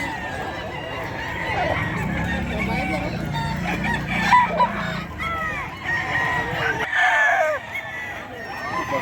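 A Boston Roundhead rooster crows at a busy poultry market, its calls rising over steady crowd murmur and clucking from other fowl, fairly close and loud.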